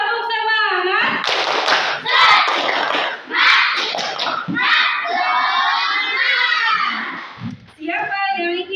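Primary schoolchildren in a classroom perform a spirited clapping cheer, loud and continuous, with many young voices shouting the chant together over rhythmic claps.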